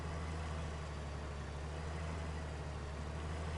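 A tractor engine in Farming Simulator 19 runs with a steady low droning hum and a constant wash of mechanical noise, loud and continuous with no voices.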